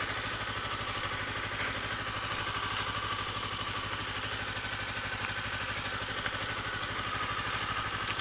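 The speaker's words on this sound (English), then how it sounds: "I'm just trying to park up the bike straight" A motorcycle engine idles steadily nearby while the bike is parked on an uneven road surface, producing a low, even mechanical hum with light clatter and no one speaking.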